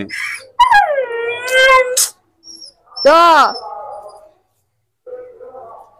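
Dogs howl in long, wavering, drawn-out cries, one after another, with short pauses and softer sounds in between, while a voice speaks briefly.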